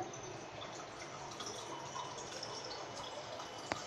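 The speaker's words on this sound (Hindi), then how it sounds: "तो मैंने इसमें एक गिलास पानी डाल दिया है" A glass of water is poured into a cooking pot of mutton with ginger-garlic paste and salt for Bohra-style akhani pulao, a faint continuous splashing trickle ending with a small clink.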